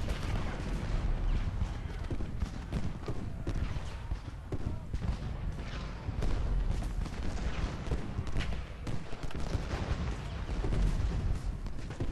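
Cannon fire rolls through a Civil War battle in Ultimate General: Gettysburg, steady booming blasts layered over continuous battlefield din, with a voice talking over it.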